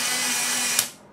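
A Polaroid SLR680 instant camera under repair fires its shutter and flash when its terminals are bridged, giving a close mechanical whirr with a brief sharp snap near the end that fades out.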